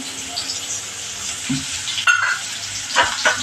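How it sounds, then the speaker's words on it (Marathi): Chopped onion dropped into a pan of frying green chillies, a loud close sizzle with a spoon stirring and clinking against the pan. "आता हा मी कांदा घालते आपली मिरची चांगली तळून झाली आहे हा कांदा घालते"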